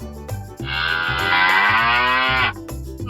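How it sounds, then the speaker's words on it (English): A cow lets out a single long, loud moo lasting about two seconds, heard up close over light background sound. "Cow."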